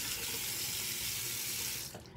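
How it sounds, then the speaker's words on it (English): Water runs steadily from a tap, splashing over a cloth held beneath it, then cuts off near the end. "Rinse this out again."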